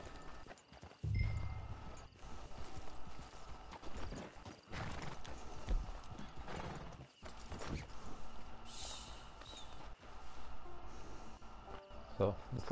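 Horse hooves clip-clop in a video game as a rider sets off on horseback, a steady walking rhythm of hoof falls near and moderately loud, with a brief snort or whinny and game ambience throughout.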